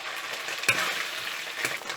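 Vegetables fry in a pan for XO chicken, giving a moderate continuous sizzle broken by two sharp stirring clatters, one early and one late, with no talking.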